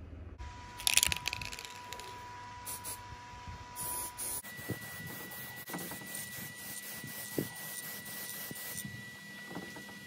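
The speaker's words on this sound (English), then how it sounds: "it's now time for a spray" Aerosol spray paint hisses in short bursts and longer passes as throttle body parts from a BMW E34 M5 S38 engine are painted outdoors on a clothes rail, close and fairly quiet, with light rustling between sprays.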